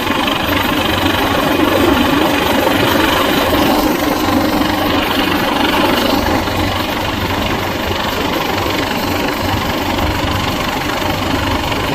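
A Coast Guard helicopter flying low overhead at a seaside pier at night, a loud, continuous rotor and engine roar that fills the whole stretch without letting up.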